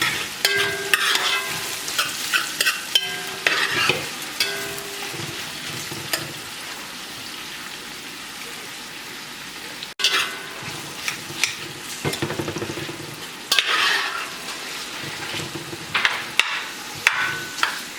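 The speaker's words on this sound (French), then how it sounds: "Quand vous avez fini de faire revenir les oignons" Onions sautéing in hot oil for braised pork ribs, a continuous sizzle and crackle with repeated scraping and stirring of a utensil against the pan, the intensity dropping off midway before the frying noise returns loudly.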